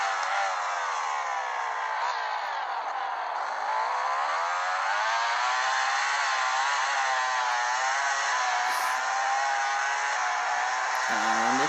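Racing motorcycle engine in the MotoGP 13 video game on the Circuit of the Americas, a steady high-pitched whine rising and falling through gear changes as the bike takes the final corner, loud and continuous with no talk.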